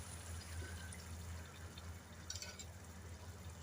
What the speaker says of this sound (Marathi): पाणी टाकणार आहोत